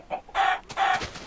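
Minecraft chickens cluck in two quick, loud, close bursts with short pauses between, game sound effects heard alone.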